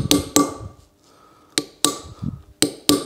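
Metal tools striking and prying at small metal locking bars on brake disc bolts at a wheel hub, sharp metallic knocks in pairs separated by short pauses, close and loud.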